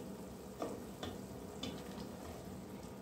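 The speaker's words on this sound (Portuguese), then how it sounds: "Vou deixar ele aqui fervendo mais um pouco nessa calda com shoyu" Sukiyaki simmers in a soy sauce syrup with a soft, steady bubbling sizzle and a few faint clicks, with no voices.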